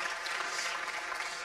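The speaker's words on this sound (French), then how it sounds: "Merci de l'applaudir." An audience applauds a French master watchmaker at an innovation awards ceremony, making a steady, even wash of clapping from many hands that fills the whole moment.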